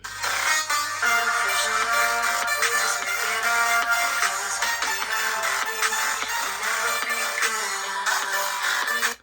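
Music played back through the stereo speakers of a Samsung Galaxy S20 Plus phone, a steady, dense track with a tinny, thin character and no low bass, continuous at a fairly loud level throughout.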